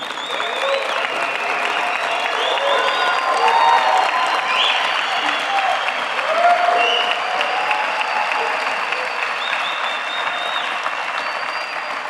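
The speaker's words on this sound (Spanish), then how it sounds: "Pide un aplauso y pide unos gritos" A large crowd at a closing ceremony applauds and cheers, steady loud clapping mixed with scattered shouts and whoops rising and falling over the whole stretch.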